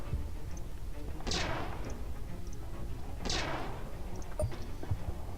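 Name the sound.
weapons firing in video game Stardrive 2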